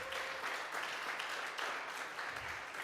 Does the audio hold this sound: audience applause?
yes